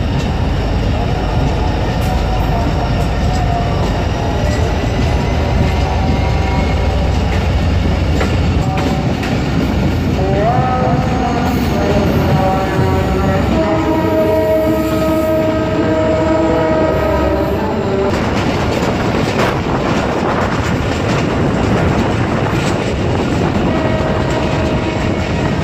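A Karachi Circular Railway train passes close and loud with continuous rumbling and rattling of wagons, while its horn blows in several long, loud blasts near the middle.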